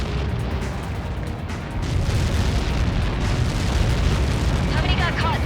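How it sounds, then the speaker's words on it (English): A massive missile impact explosion in the video game Ace Combat 7 rumbles as a dense, sustained roar of blast noise and low booms, swelling midway, with radio voices talking in the mix. "How many got caught in that explosion?"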